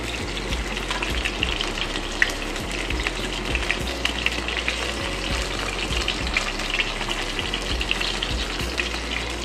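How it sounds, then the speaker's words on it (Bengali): Paneer pieces fry in hot oil in a pan, a steady close sizzle and crackle with faint stirring scrapes, continuous throughout. "পনিরটা আমার ভাজা হয়ে গেছে"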